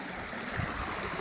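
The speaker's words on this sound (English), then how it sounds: "one of the main water pipes burst in the corner. There is water absolutely everywhere." Water gushes from a burst main water pipe in a concrete corner, making a constant, rushing broadband wash with no pauses.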